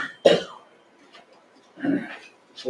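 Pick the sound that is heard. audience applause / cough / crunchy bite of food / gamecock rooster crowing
cough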